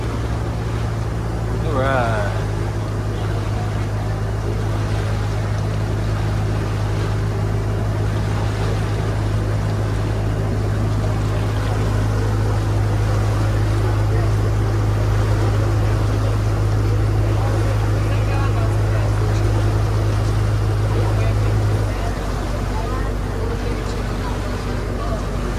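An engine drones steadily aboard a Disney resort ferry looping past the Magic Kingdom, with water rushing beneath; the low hum holds for most of the ride, then drops away near the end.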